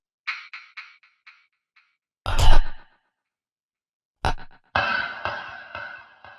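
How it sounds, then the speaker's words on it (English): Chopped breath samples without fuzz distortion: a few short airy puffs, a longer whooshing exhale, then more breathy bursts and a stretched hissing breath, dry and close, separated by silence. "these effects, which were actually breaths"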